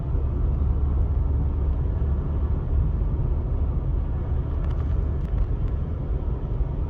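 Manual car driving in third gear at around 50–60 km/h on a Turkish driving-test course: a steady, continuous low engine rumble with road noise, unbroken throughout.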